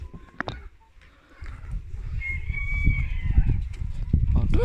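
A rooster crows once in a drawn-out call at the morning release of farm birds, among ducks, chickens and pigeons, over a rising background of bird noise and shuffling.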